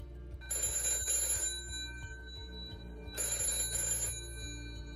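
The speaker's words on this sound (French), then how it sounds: "Et puis le téléphone sonne." Two bursts of a telephone bell ringing, each about a second long with a pause between, in a hot, noisy port workshop, heard over a steady low mechanical hum.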